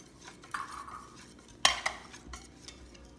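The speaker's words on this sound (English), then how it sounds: "we'll mix it with our flour here" Flour being mixed by hand with annatto water in a bowl for kutsinta, brown rice cakes, heard as a few soft scrapes and stirring sounds with one sharper clatter of a utensil against the bowl.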